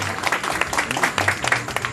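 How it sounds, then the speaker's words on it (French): An audience at a village ceremony applauds, giving a steady wash of scattered hand clapping that carries on evenly for about two seconds at moderate distance. "Je vous demande de l'applaudir énormément."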